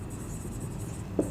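Steady, close scratching of writing on a board continues throughout, with a slightly sharper stroke just before the end.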